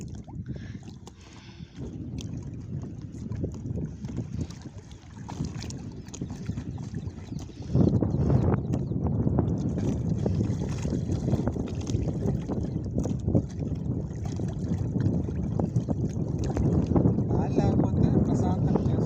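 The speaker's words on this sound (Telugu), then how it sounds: "చూడండి అసలు ఎలా కొడుతుందో గాలి" Strong wind roars continuously against the microphone during net fishing, growing louder partway through, with water sloshing faintly beneath.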